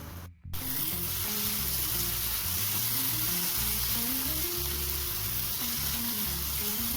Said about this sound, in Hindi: तो चलिए मसाले को अच्छी तरह से भून लेते हैं थोड़ी देर।